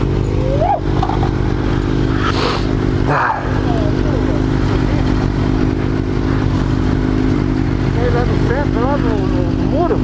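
A sport motorcycle, one of a group of Honda Hornet, Kawasaki Z900, Honda CBR 600 and Suzuki GSX600 bikes, drones loudly and steadily close by while accelerating hard, joined by a few brief higher-pitched revs and some faint chirps over the constant roar.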